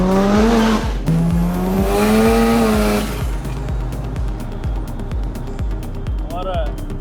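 A Mazda RX-3 with a rotary engine drives past loudly, its revving note rising and falling before settling into a rough, pulsing drone, with a person speaking over the first few seconds.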